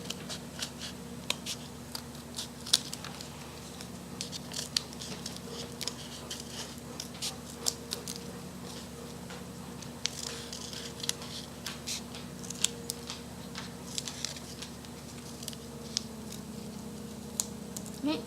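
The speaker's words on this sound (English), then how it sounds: "I'm going to be taking my scissors and just making random cuts all throughout my triangle." Scissors make random snips through a folded paper triangle for a snowflake, producing faint, close, irregular clicks and crisp cuts scattered steadily over a quiet background.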